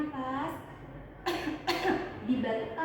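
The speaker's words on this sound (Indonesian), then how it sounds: "Jadi batuk yang benar itu ternyata ibu karena adanya dahak kita batukkan 2 kali" A person coughs twice during a physiotherapy breathing exercise after thoracic surgery, the two short, moderately loud coughs coming close together after a soft exhale and some speech.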